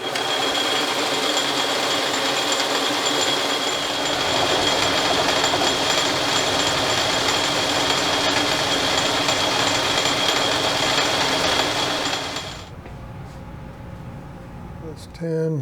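A metal lathe fitted with a steady rest turns a test axle for a sprag clutch differential bearing fit, giving a steady, loud mechanical whir that runs continuously and then stops abruptly near the end.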